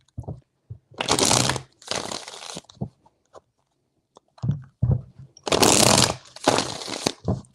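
Tarot cards are shuffled in three long riffling bursts, loud and close, with soft taps and handling sounds between them.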